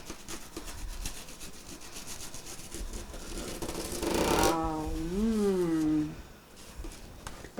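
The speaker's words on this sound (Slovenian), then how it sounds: "potem v bistvu se žaga, ne reže in ne pod pritiskom" A knife saws back and forth through a kremšnita cream slice with a rough, steady rasping stroke, close up, followed by a brief voiced sound.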